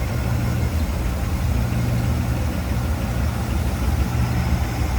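A 1957 Chevrolet Bel Air two-door hardtop with a 327 V8 four-barrel engine idles smoothly, producing a steady, even low rumble close by with no talking over it.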